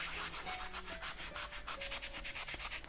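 Paper sanded with an old sanding block makes a soft, even rubbing rasp of quick repeated strokes, faint and close, with no voices over it.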